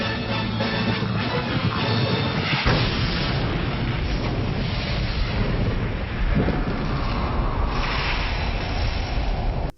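A ship crashes into a giant rolling ball of critters in the 1988 horror comedy Critters 2, heard as a loud, continuous roaring rumble with heavy booms and a fresh impact surge partway through. No voices are heard.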